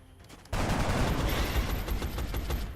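Soldier firing a weapon in the XCOM: Enemy Unknown video game, a sudden loud burst of gunfire erupting after a quiet start and then rattling on in rapid, dense shots.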